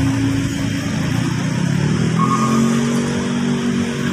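Hino 500 trucks at a busy industrial-area intersection, a continuous loud drone of heavy engines and passing traffic with a steady low hum and brief higher whine, no talking.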